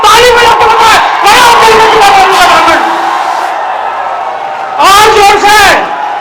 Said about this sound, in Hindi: खड़े हो करके हल्ला करके ताली बजा के बताए